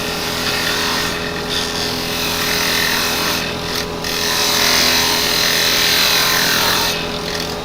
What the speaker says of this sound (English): Right, back to the first spindle gouge I was using.